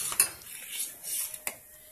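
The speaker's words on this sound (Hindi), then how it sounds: "और ये साबुदाना इसको हिलाते रहेंगे थोड़ी देर के लिए ताकि नीचे बैठे नहीं।" A spoon stirs sabudana in a pot of boiling milk, giving light metallic scrapes and clinks against the pot with one sharper knock near the end, close and moderately quiet, with no talking.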